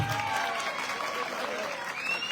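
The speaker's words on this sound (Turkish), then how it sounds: "yönetim ekibine kocaman bir alkışla alabilir miyim?" A crowd at a village solidarity night in Üsküdar gives the management team a big round of applause, sustained and even clapping with a voice carrying over the top.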